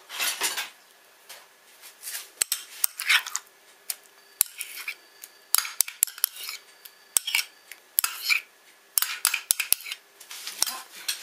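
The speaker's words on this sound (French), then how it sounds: "Je mélange énergiquement." A utensil whisks a banana dessert hard in a bowl, producing rapid bursts of clinking and scraping against the sides with brief pauses between strokes, close and crisp with no talking.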